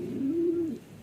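A racing pigeon gives a single close, soft low coo lasting under a second, with no other sounds around it.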